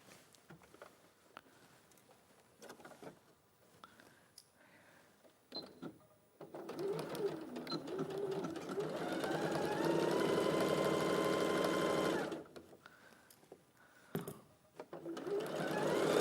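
A sewing machine stitches across the top of a split in fabric, running in a steady rapid whir for several seconds after quieter start-stop bursts, with short runs again near the end.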